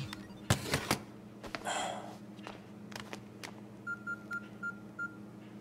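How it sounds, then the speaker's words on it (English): A phone rings indoors as a run of short, evenly spaced electronic beeps, faint and clean, following a few quiet clicks and rustles in the room. "don't you hear your phone ringing?"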